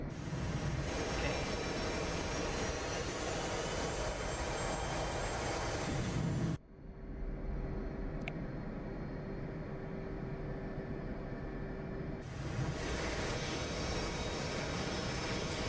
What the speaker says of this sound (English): the jet blast deflector here has come up behind me